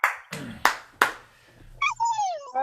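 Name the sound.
applause from livestream audience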